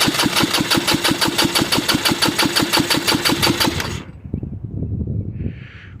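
A motorcycle engine is cranked by its starter during a compression test, a loud, close, rapid rhythmic chugging for four seconds that then cuts off, leaving lower clatter and handling noise.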